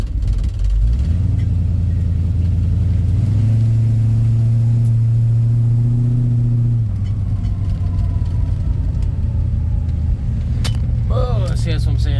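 A 1967 Mercury Cougar with a big cam accelerates hard in first gear, its loud, close rumbling exhaust rising in pitch, then easing off before revving again.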